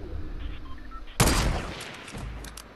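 A single sharp, loud gunshot in a shooter video game rings out after a short quiet stretch, then trails off into a long fading echo.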